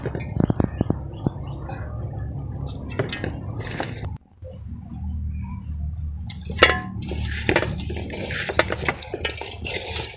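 Curd poured over cluster beans and tossed in a bowl for sun-dried vathal, giving wet squelching and sloshing sounds that run steadily, close and moderately loud, with a brief pause partway through.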